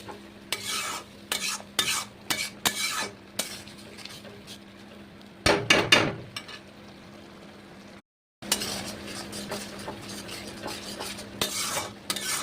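Spice paste for a Barishal-style aar fish curry being stirred and fried in a pan, with sharp repeated spatula scrapes and clinks over a low sizzle, a loud burst of scraping midway and a brief silent gap.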